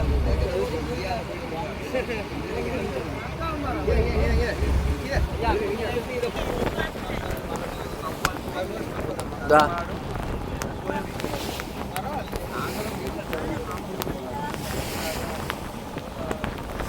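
A boat engine drones steadily on open sea off Jaffna, Sri Lanka, with wind buffeting the microphone and splashing waves; voices are faintly heard in the background.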